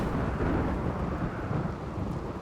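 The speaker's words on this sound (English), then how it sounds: "The rain should be fine." Rain and thunder in a video game: a continuous dense wash of rainfall under a deep rolling rumble, steady and fairly loud, with no talking.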